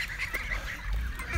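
Pet ducks from a large flock call out in a quick burst of nasal, honking quacks that overlap and carry clearly for a moment.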